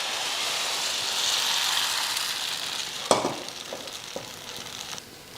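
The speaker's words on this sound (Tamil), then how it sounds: "இதில் ஒரு கரண்டியை ஊற்றி அப்படியே சுற்றி வச்சு விட்ருவோம்." Appam batter sizzles in a hot appam pan with a loud, even frying hiss that eases slightly. A few sharp metallic clanks and knocks from the pan and ladle come near the end.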